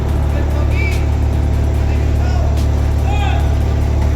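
Road traffic at dawn: steady engine rumble and tyre hiss from cars passing on a road at a construction site, continuous and fairly loud, with a few faint higher chirps on top.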